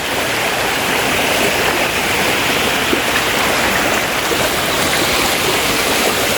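Loud, steady rush of flowing water, continuous and close with no break, like a stream running over rocks.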